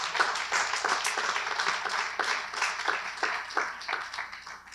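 An audience at a talk on mental disability and art applauds steadily and moderately loud, dense clapping without a pause.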